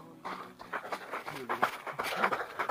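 A dog pants in quick, rhythmic breaths close by, with a faint whimper, while people talk over it.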